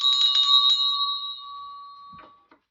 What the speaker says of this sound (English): hit that notification bell right over here